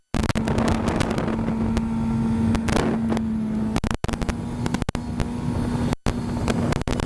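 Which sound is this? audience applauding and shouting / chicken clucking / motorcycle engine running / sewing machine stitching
motorcycle engine running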